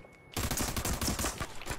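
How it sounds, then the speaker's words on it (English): Rapid automatic gunfire in a shooter video game, a loud, close burst of fast repeated shots that starts abruptly after a brief quiet moment and keeps going to the end. "I shot him 18 times."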